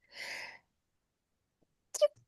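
A single sharp sneeze bursts out indoors, followed by a quiet pause and then a short throaty vocal sound.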